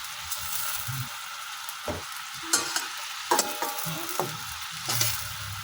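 Carrots, potatoes and chicken fry in hot oil before going into a pot for kaldereta: a steady close sizzle with repeated scraping stirs and clacks of a utensil against the pan.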